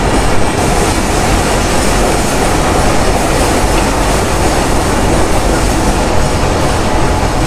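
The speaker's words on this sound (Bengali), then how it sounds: "আমাদের ট্রেন এখন প্রবেশ করছে রুহিয়া স্টেশন" The Banglabandha Express, running from Panchagarh to Rajshahi, pulls into rural Ruhia station with a loud, dense, continuous rumble and rattle of wheels and carriages heard close from on board, with no talk.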